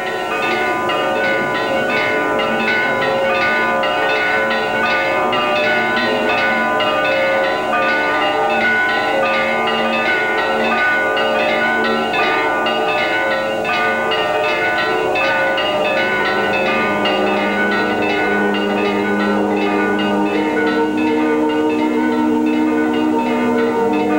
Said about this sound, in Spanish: Una campana